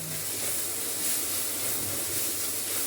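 Onion sautés in a pan as part of a home cooking session, giving a steady, even hiss that holds unchanged throughout at moderate loudness, with no voices.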